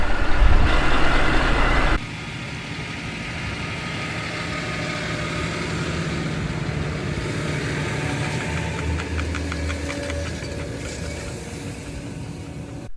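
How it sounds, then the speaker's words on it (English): A farm supply truck's engine runs on an onion farm, a loud rumble at first that drops to a steadier, quieter idle drone with some rattling and mechanical clatter later on. "I'm gonna get the supply truck where we're gonna plant our last field."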